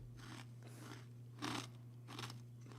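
Sharp crunches of someone biting into Carolina Reaper potato chips, close and crisp, a handful of distinct bites spaced irregularly over a steady low hum with no talking.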